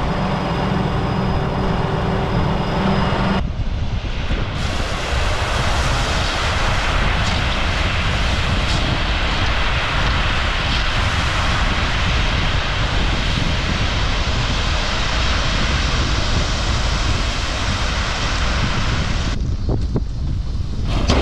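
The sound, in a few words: truck dump bed raising via PTO hydraulics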